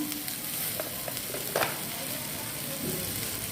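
Ginger paste goes into a pan of frying tomato, onion and green chilli for a Bengali puti fish curry, raising a steady, fairly quiet sizzle with occasional stirring scrapes and no talking.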